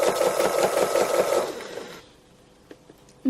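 A sewing machine stitches free motion embroidery, sewing a colour patch onto a raggedy cow near the horn, running in a fast steady whir for about two seconds before stopping, followed by a few faint clicks and handling noises.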